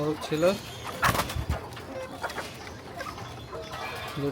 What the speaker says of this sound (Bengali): এটা হচ্ছে মুরগির ফার্ম আমাদের